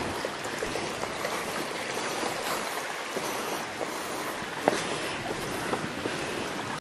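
Water runs steadily along a mountain trail stream on a volcano hike, a constant close rushing wash with a few small splashes and no voices.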